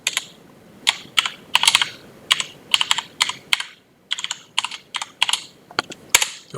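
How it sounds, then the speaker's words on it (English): Someone types a terminal command on a computer keyboard: close, crisp key clicks in quick uneven bursts with short pauses between, with no talking. "I would type in firewall command, add port equals"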